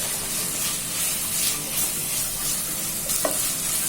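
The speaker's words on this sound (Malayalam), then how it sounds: "ഇനി നമുക്ക് ഇതിലേക്ക് ഇഞ്ചി, വെളുത്തുള്ളി, പച്ചമുളക് ഇട്ടിട്ട് നല്ലോണം വഴറ്റുക." Ginger, garlic and green chilli being sautéed in a pan for a pepper chicken curry, a steady close sizzle with faint stirring scrapes and a brief clink near the end, no voices.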